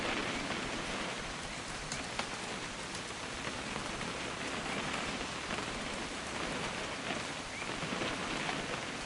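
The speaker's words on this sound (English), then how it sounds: "You hear that rain?" Steady rain in a PS4 game pours down, a dense, even hiss of drops pattering on surfaces throughout, with no voices or other sounds breaking through.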